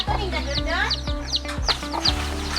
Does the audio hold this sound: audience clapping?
no